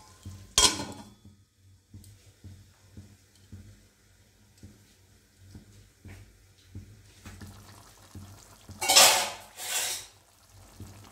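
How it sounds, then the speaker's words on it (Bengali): A metal pot lid over Bengali jackfruit curry clanks sharply once near the start. After a quiet stretch of soft low thumps, two louder rattling scrapes of the lid follow near the end. "আমি ঢাকাটা খুলে দিয়েছি।"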